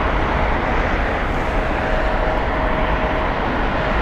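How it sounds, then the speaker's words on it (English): Maverick tour helicopters flying over the Las Vegas Strip give a steady, broad rotor and engine roar that holds at an even level throughout, with no speech. "Got our Maverick helicopters flying over the strip as we speak"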